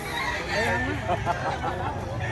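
A Grey Hatch gamecock gives fowl calls amid a noisy, crowded setting, with chatter and other background voices mixed in around it.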